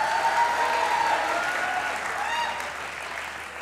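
Studio audience on a comedy talk show applauds, a sustained even wash of clapping that slowly fades, with a faint tonal whistle-like sound drifting over it early on.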